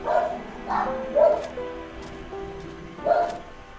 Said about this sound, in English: I don't know if you guys can actually hear that, the dogs barking.